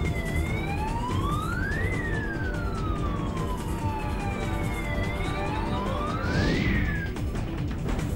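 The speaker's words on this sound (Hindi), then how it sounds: "ATM के सायरन को बंद करवाया गया।" An ATM alarm siren at a bank wails continuously, its pitch sweeping slowly up and down in long rising and falling cycles, loud and steady over a noisy background with no one talking.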